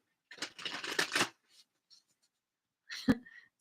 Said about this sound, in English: The deck that would not shuffle.